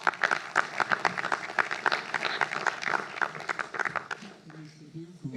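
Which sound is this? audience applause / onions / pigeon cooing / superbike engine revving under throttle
audience applause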